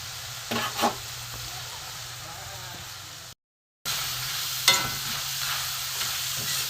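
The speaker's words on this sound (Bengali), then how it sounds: "একটু ভাজা হোক মুচমুচে হয়ে ভাজা হবে" Thin-cut potatoes fry crisp in oil with a steady sizzle and a few sharp stirring scrapes. The sound breaks off briefly and then resumes, with no clear speech.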